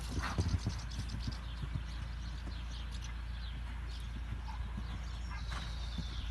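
A horse's hooves thud in a rhythmic clip-clop at a steady pace, moderately close, over a constant low background rumble.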